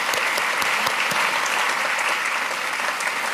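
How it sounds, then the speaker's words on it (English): Loud, dense applause fills the room at a congressional cancer survivorship summit, a crowd clapping vigorously and continuously with no pause throughout. "So please join me in giving them a round of applause."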